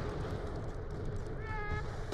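A cat lets out a short, faint meow near the end, over a low background hum.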